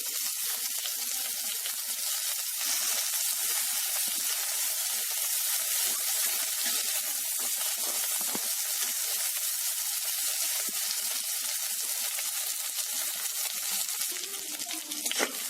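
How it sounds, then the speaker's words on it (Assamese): Chopped capsicum fries in oil in a pan over a low gas flame, giving a steady, dense sizzle that holds at an even level throughout, with a faint clatter near the end. "ফ্ৰাই কৰি লম। গেছৰ ফ্লেমটো ল' কৰি দিম।"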